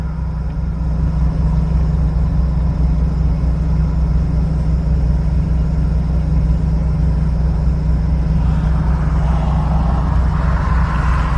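A car engine idles and rumbles in traffic in Brazoria County, Texas, a steady low drone throughout with no talking.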